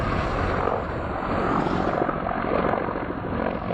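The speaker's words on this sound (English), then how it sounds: "That's the Ka-52 Alligator right there." A Ka-52 Alligator attack helicopter flies overhead in a wartime setting, a steady broad rotor and turbine roar that stays even and moderately distant throughout, with no voices.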